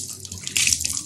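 Hot water pours from a tap into a sink during face washing, a close, loud, splashing hiss that swells and flutters for about a second.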